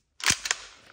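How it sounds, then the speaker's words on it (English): A Tokyo Marui 10-inch Desert Eagle airsoft pistol fires a single sharp crack with a brief trailing rattle and short decay, close and loud in a quiet room. "The 10-inch Desert Eagle by Tokyo Marui."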